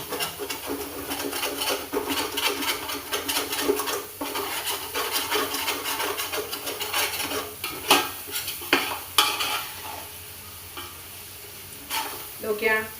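Spice powders scraped and stirred through oil in a pan for egg coconut rice, a steady close sizzle with repeated scraping strokes throughout, no voices.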